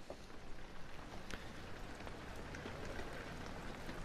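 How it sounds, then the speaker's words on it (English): Steady rain falls softly in the video game Amnesia, a faint continuous patter with scattered drip-like taps and no other sounds. "Is it raining? Yeah, it must be."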